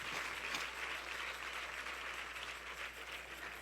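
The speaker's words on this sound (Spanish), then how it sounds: "dele fuerte ese aplauso al Señor" A church congregation claps steadily in a faint, distant wash of applause that holds evenly for a few seconds.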